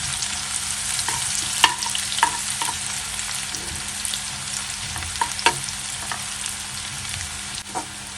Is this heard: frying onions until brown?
yes